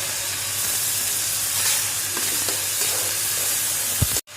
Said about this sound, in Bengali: হালকা করে ভেজে নিব গাজর।